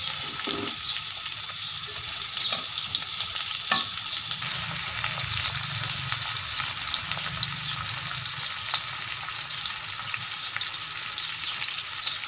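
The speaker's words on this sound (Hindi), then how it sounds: "घी के अंदर पहले प्याज डाल दें और इसको चावलों के लिए जिस तरह भूनते हैं उतना आपने भून लेना है" Onions frying in ghee in a pan for potato beetroot rice, a loud continuous sizzle with occasional stirring scrapes and no talk.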